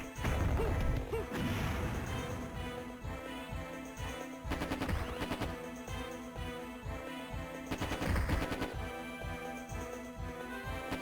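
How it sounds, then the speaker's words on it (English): Enemy gunfire in the action game Battle Angel Alita (Gunnm: Kasei no Kioku), with repeated sharp shots and impacts in bursts over a steady game soundtrack, fairly loud and close. "the guy's shooting at me while I'm trying to take out this other one"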